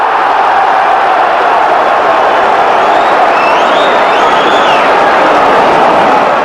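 A massive football crowd at a 1997/98 league match between Hibernian and Dundee United, a loud, continuous roar and hubbub that fills the whole stretch without letting up.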